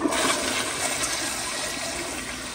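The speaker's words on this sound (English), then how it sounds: "Here is another flush." A 2009 Proflo Gilpin elongated pressure-assist toilet flushes at one gallon per flush, giving a loud, steady forceful rush of water that holds for the whole stretch with no voices.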